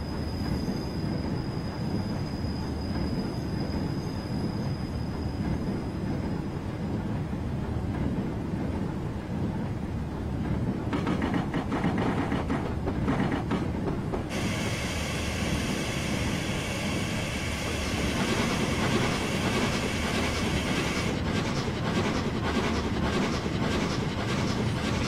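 A model train runs on the straight line toward Victoria Station on the Onehouse Model Railway in Train Simulator 2016, a continuous rolling rumble with rhythmic wheel clicks and a high whine, steady throughout with no voices.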